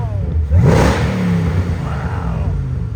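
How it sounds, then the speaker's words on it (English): A supercharged 2014 Ford Shelby GT500 Mustang with a six-speed, tuned to 651 rear-wheel horsepower, gives a loud, close rev that climbs quickly and then eases back to a steady idle rumble. "let's give it a couple revs"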